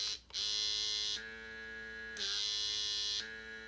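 Electric lip plumping pump running, a close mechanical buzz with a steady hum that switches on and off in cycles, loud bursts alternating with quieter stretches.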